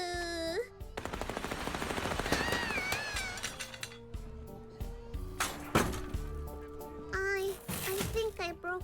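Rapid bursts of gunfire in the game Little Misfortune, a quick chattering run of shots over game music and chiming effects, with a voice speaking in between.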